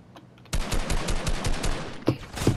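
Rapid automatic gunfire rattles through a Fortnite arena match, a fast run of close, loud shots lasting about a second and a half, followed by a few separate heavier bursts.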